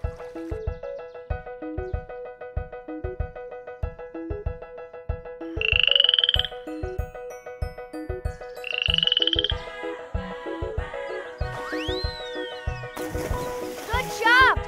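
A little cartoon frog croaks twice in a children's show, each croak a short nasal burst over bouncy, steady music that carries throughout and ends in whooshing effects.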